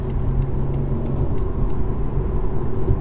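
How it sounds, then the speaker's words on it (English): A BMW M140i hatchback driven hard in Sport Plus mode with the gearbox in manual, its engine giving a steady, loud, close low rumble with no breaks or voices. "let's go and have a proper drive in this 140i"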